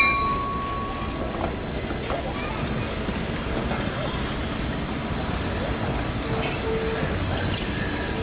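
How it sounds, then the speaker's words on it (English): A Chicago and Northwestern 4160 GP7 diesel locomotive pulls into a museum display area during a diesel parade. Its wheels give a sustained high-pitched squeal over a low rolling rumble of rail cars, loud and close throughout. "Pulling into the display area now is the Chicago and Northwestern 4160."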